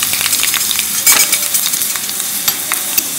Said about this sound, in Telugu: నూనె వేడెక్కింది అండ్ మనకి ఏం వద్దండి దీంట్లో. కొంచెం జీలకర్ర, ఆవాలు, కొన్ని ఆవాలు and red chilli, dry red chilli